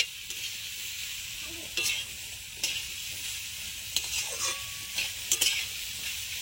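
Steady frying sizzle of hog plum (amra) pieces in a pan, with occasional clinks and scrapes of stirring rising above the constant hiss.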